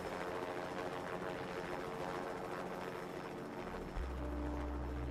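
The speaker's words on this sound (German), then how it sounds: "da kommt schon der Heli" Helicopter arriving in the video game Vampire: Swansong, a steady whirring rotor and engine drone, fairly faint, that deepens slightly near the end; no voices.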